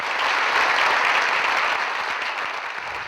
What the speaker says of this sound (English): I would love you guys to give Lisa Rickey a round of applause for her work as a sculptor.